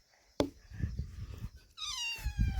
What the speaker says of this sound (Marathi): हा बघा मांजर मस्त आहे